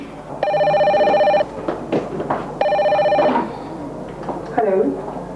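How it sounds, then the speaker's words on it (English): A telephone bell rings in two bursts inside a home in a Ghanaian film scene, loud and near, while people talk over and between the rings. "Excuse me, I'll get the phone."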